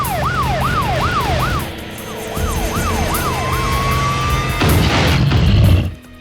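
A cartoon siren on an old police patrol car wails in a rising and falling pattern. It stops briefly, starts again, then slides into a long steady tone, and a loud clattering engine noise takes over near the end.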